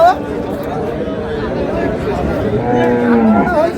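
A single low, drawn-out moo from nearby cows near the end, over busy crowd chatter and bargaining voices at a cattle market selling cows with calves.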